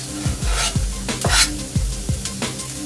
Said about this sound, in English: Now I'm going to add the onions and the carrots